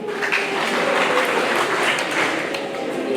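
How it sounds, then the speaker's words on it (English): A graduation audience gives a Bougainville clap at a secondary school ceremony, a dense, even wash of clapping from many hands that holds steady throughout. "A Bougainville clap"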